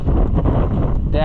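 Wind buffeting a microphone outdoors beside a FIAT tractor, a loud low rumbling roar that holds steady through a brief moment, close and harsh with no other sounds standing out.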